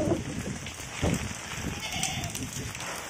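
Goats bleat in short bursts amid wind and rain during a stormy day at a wedding venue, with a person talking intermittently over the weather noise.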